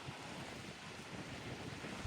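Sea surf rolls continuously onto the shore, a steady broadband wash mixed with gusty wind buffeting the microphone, with no voices.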